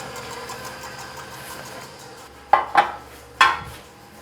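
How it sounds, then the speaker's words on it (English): A spoon scrapes and knocks against a pot of rice cooking with mushrooms, three distinct metallic clanks near the end over a steady low hum. "We're just gonna stir our rice while we're back here."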